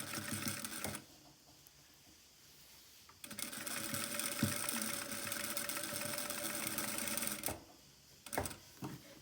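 A domestic sewing machine runs in steady bursts while stitching all around the edge of a small fabric toiletry bag, whirring for several seconds, pausing briefly, then running again with short stops and starts near the end.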